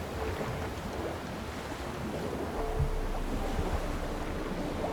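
Ocean waves in The Witcher 3 roll in a steady, rushing wash with wind-like hiss, moderately loud and continuous, swelling slightly partway through with no voices.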